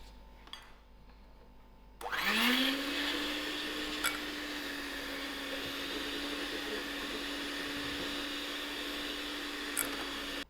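An electric hand mixer whirs up to speed and runs steadily through chocolate chip cookie batter after flour is folded in, a close continuous motor drone with no talk.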